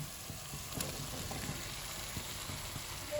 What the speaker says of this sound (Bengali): আর এই মশলার মধ্যে আমি ভাজা সবজিগুলো দিয়ে দিচ্ছি।